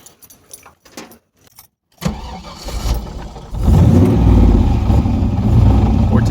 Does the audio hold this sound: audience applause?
no